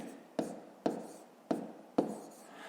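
A pen writes a number on paper during a 5th-grade maths exercise. Four distinct, close scratching strokes come at a steady pace, each a short tap followed by a fading scrape, with no talk over them.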